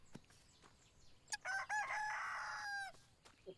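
A chicken in the Everdream Valley farming game crows loudly and alone, a single drawn-out call held for over a second, with a few short clucks around it and a quiet background.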